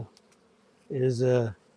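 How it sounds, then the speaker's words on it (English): A short burst of low, steady buzzing from a mass of honey bees in a hive box, rising for about half a second then cutting off, preceded by quiet background. "box of bees"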